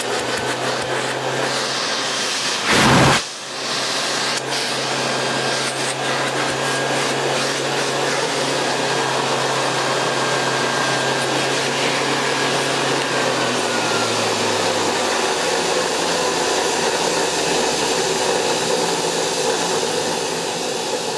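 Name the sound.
Hoover Model 725 vacuum cleaner running with Turbomaster hose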